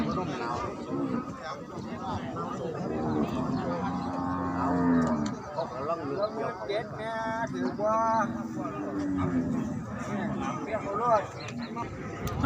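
Cattle at a Thai cattle market moo repeatedly, with several long, drawn-out lowing calls close by, while people talk and bargain over prices in the background.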